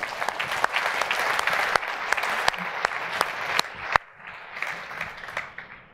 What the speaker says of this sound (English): I think you need to give yourself applause for that.